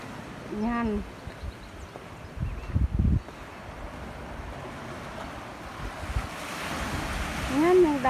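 Ocean waves wash steadily onto Church Bay beach in Bermuda, a continuous surf roar with wind buffeting the microphone and occasional louder swells.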